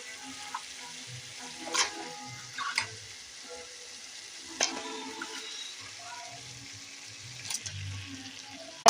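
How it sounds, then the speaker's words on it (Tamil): Chicken cooks with onions and tomatoes in a pan for a gravy. A steady close sizzle of frying runs throughout, with occasional stirring scrapes and clinks and no talk. "வெங்காயம் தக்காளியோட ஒரு 2 நிமிஷம் நல்லா வதங்கட்டும்."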